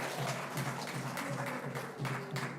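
A church congregation claps together during a Sunday service, a steady wash of crowd applause with a faint rhythmic pulse, moderately distant and even in loudness.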